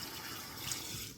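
Water runs from a tap into a sink to wet fingers during a skincare cleansing routine, a faint, steady hissing splash over about a second.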